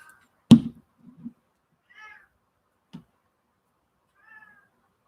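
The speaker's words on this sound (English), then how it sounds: "quit tormenting your cat and let him be with you" A house cat lets out several short, separate meows spaced a second or two apart, thin and moderately close, after a sudden loud thump at the start, with near silence between the calls.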